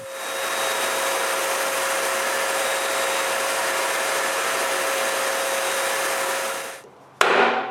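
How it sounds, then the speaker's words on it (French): A can of wood varnish sprays one continuous coat over a workshop dust-filtration box, a loud, steady, close hiss lasting about seven seconds. The hiss cuts off abruptly and is followed by a short clatter. "je vaporise une couche de vernis partout"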